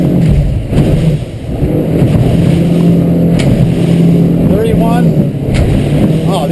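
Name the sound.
Weldcraft 220 Maverick boat engine running at speed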